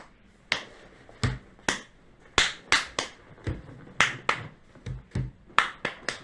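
A child plays a rhythm game, tapping drums and clapping palms in a sharp sequence of about seventeen close, crisp strikes with brief silences between, some beats coming in quick pairs.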